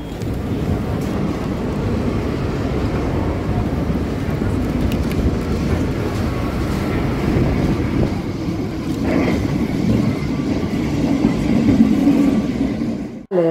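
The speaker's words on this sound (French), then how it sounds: "On s'est fait dire qu'il fallait absolument faire le tramway de la ligne 28" A ride aboard Lisbon's line 28 tram gives a continuous low rumble of wheels and motor, swelling slightly toward the end before a brief clatter.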